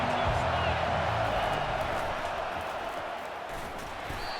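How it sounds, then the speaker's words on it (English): A stadium crowd in a college football video game, in a Mississippi State dynasty mode, makes a steady, loud roar of noise that fades slightly over a few seconds, with a rhythmic low thumping early on. "This crowd knows this defense needs them right now."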